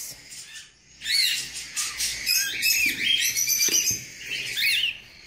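Pet bird chicks at a home aviary chirp and tweet in busy, overlapping high calls that carry on almost continuously after a brief quiet start, close and fairly loud.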